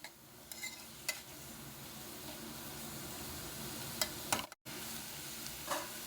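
Boiled chicken and broad beans fry gently in oil over low heat, giving a quiet continuous sizzle with occasional spatula scrapes and clicks; there is a brief dropout near the end and no speech.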